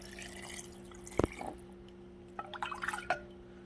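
Broth mixed half and half with filtered water is poured and dripped into glass canning jars of hamburger meat, giving a sharp splash followed by a run of small close trickles and drips.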